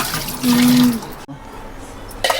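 Water pours off prawns as they are drained in a home kitchen, a loud splashing gush for about a second that fades to a quieter trickle, followed by a brief clatter close by.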